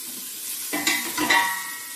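Bacon fat dropped into a hot pan, a faint steady hiss that breaks into a brief louder sizzle with a couple of stirring scrapes, no voices.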